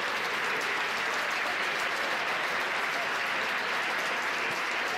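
Spectators at a men's second-division volleyball match applaud an injured player being carried off, a distant, even roar of clapping filling the hall at low level.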